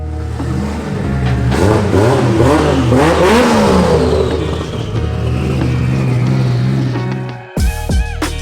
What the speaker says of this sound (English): We're gonna test the brand new engine, hear how she sounds.